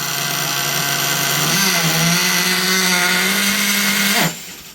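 An OFNA Twin Titan RC monster truck engine idling rich gives a close, steady buzzing drone that rises slightly in pitch, then cuts out abruptly near the end.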